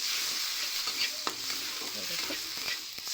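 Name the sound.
frying turmeric and spice masala in a pan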